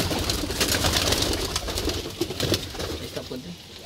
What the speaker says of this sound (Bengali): এটা হচ্ছে বাড়ির পায়রা, কত সুন্দর পায়রা দেখতে পাচ্ছেন